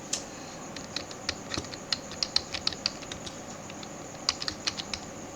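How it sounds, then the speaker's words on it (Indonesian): Greeting text being typed on a computer keyboard, with quick, irregular key clicks close up over a faint steady hum. "Saya buat lagi teks selamat Idul Fitri Datuk STM"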